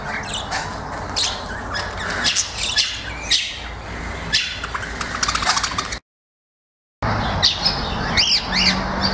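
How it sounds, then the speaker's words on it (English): A male budgie at a wetlands and wildlife centre in Port Douglas, giving bright, close chirps and squawky tweets in quick bursts, with a short silent gap before more chattering calls. "we have one of our friends, a male budgie."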